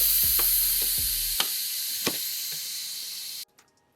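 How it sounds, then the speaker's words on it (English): Steam venting hard from an Instant Pot pressure release valve after cooking brown rice, a loud steady hiss with a few clicks and thumps that cuts off abruptly near the end. "We're just gonna push this down, and you're gonna see all the steam shoot up."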